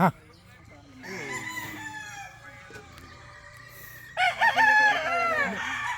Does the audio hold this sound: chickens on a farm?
yes